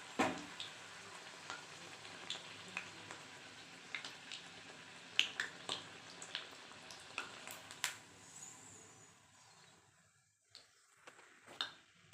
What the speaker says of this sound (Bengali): আমি একে একে সব লুচিগুলো আমি ভেজে নিচ্ছি